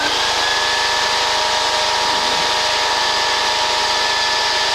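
A light training aircraft's piston engine runs at full power on the takeoff roll, a loud, steady, buzzing drone with a fine rapid pulsing, close and continuous without pause.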